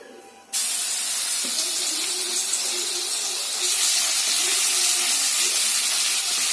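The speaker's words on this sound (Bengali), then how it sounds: "এবার তেলের মধ্যে আমি রসুনটা দেবো" Grated garlic hits hot oil while chili chicken is cooked, setting off a sudden, loud, steady sizzle that keeps hissing without a break.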